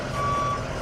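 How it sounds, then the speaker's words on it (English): A backup alarm on a 2006 Leader PT2 truck sounds a single steady electronic beep, heard over a low engine rumble. "Got a backup alarm, of course."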